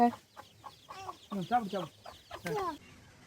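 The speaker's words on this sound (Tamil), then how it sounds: "ஒரு கோழி குஞ்சோட போயிட்டுருக்கு." A native country hen clucks while walking with her chicks near a village farm shed, giving a quick series of close, moderately quiet clucks.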